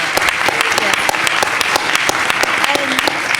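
A crowd claps steadily, with dense overlapping hand claps at a constant level throughout.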